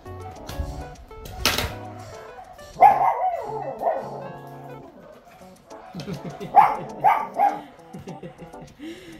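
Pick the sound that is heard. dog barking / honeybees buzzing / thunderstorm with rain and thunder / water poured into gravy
dog barking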